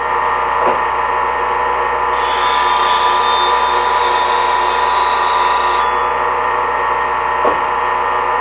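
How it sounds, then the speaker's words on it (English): Bench grinder used for sharpening woodturning spindle tools, its steady motor whine gradually winding down toward a stop, with faint scraping touches near the start and end. "I'm going to wait for the grinder to come to a complete stop so I don't risk damaging it."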